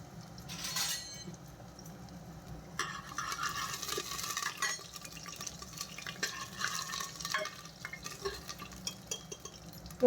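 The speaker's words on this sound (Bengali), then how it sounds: "এগুলো দিয়ে আমি এখন ভালো করে একটু ভেজে নেবো রসুন কুচিটা।" Chopped garlic, cumin and two bay leaves frying in a little oil, a faint sizzle with the scrape and clink of a spoon stirring in the pan, quiet and close with no talk.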